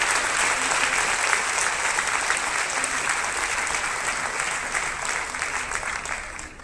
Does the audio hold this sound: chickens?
no